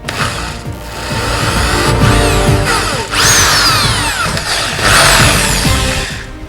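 A power drill bores a hole through aluminium, its whine rising and falling in loud bursts with sweeping high squeals as the bit cuts, briefly easing between passes.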